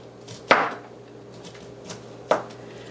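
A knife chops broccoli and cauliflower into bite-sized pieces on a board, two sharp distinct knocks about two seconds apart over a quiet background.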